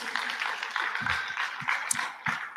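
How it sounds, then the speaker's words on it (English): Dense, steady applause from a summit audience, with scattered louder claps and a few low thumps throughout. "let's give her a round of applause"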